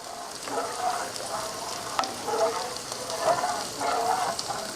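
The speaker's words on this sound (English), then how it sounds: "Just give it a little bit of stir so your honey don't stick to the bottom." Honey warming in a pan is stirred in slow rhythmic passes, a gentle scraping over a soft, steady crackle. Close and moderately quiet, with no talking.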